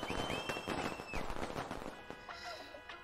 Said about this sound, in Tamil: தீபாவளினா பட்டாசு வெடிப்பு.